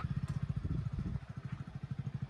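A motorcycle engine runs nearby with a rhythmic low chugging pulse and a slight rattle, fairly faint and steady, with no talk over it.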